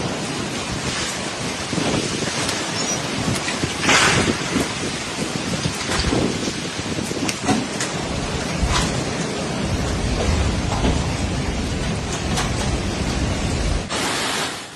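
Super Typhoon Bavi lashing Guam and the Mariana Islands, roaring wind and heavy rain in a dense continuous wash with gusty surges and buffeting thumps, loud and unbroken.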